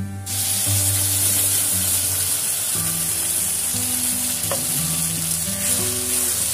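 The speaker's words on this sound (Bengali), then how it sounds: "পেঁয়াজটা কিন্তু আমি নিচ্ছি হালকা ভেজে" Loud, steady sizzling of onion frying in hot oil in a pan fills the clip, with a low hum underneath and occasional stirring.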